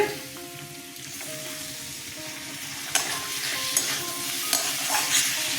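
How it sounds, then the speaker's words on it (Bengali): Tomatoes with cashews frying and being stirred in a pan, a steady close sizzle with scraping stirring strokes and sharper clinks of the spoon against the pan. "টমেটো খুব ভালো করে ভেজে দেবো"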